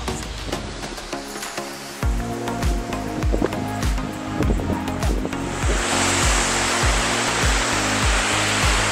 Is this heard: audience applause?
no